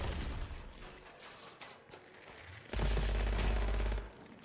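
Bursts of rapid gunfire in the video game Gunfire Reborn crackle and thump, ending in a loud sustained stretch of automatic fire before cutting off.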